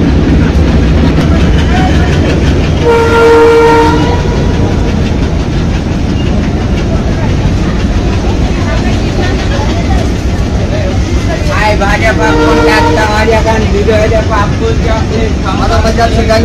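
Passenger train on the Khulna to Mongla line heard from inside the carriage, a loud continuous rumble and rattle throughout, with a horn sounding early on and voices of passengers and hawkers underneath.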